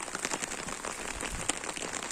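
Rain falling steadily on a rainy day in a village area, a dense continuous patter of drops hitting surfaces, with a few louder individual splashes, no voices.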